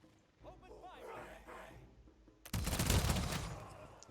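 A volley of musket fire in the Humankind strategy game erupts suddenly as a dense crackling burst about halfway through, following a quieter stretch with a voice speaking.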